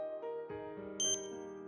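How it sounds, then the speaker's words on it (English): A doorbell rings early in the morning with a few bright bell-like dings over a soft, sustained musical background. "The next morning, the doorbell rang early."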